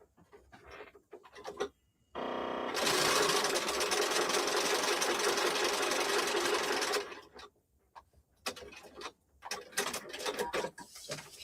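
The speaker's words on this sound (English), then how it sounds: "I'm going to stitch right along this line" A sewing machine stitching along a line on a T-shirt appliqué runs as a loud, steady mechanical whir for about four seconds, framed by softer handling clicks and rustles before and after.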